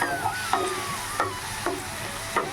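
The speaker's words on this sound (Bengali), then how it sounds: "চলুন এবার সমস্ত কিছু একসাথে একবার ফ্রাই করে নিই।" Garlic paste and spices frying in a pan for a chicken dish, with a close sizzle and several evenly spaced stirring scrapes, and no voices.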